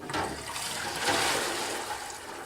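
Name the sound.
water flowing through silt fence fabric during flow test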